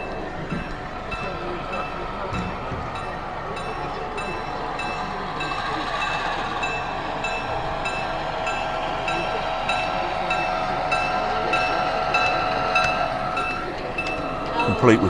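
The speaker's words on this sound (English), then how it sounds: "here comes the Loco." A sound-fitted model railway locomotive running past on an exhibition layout, a steady moderately loud diesel-like engine drone with faint rail clatter, continuous throughout and growing slightly louder near the end, with some background chatter.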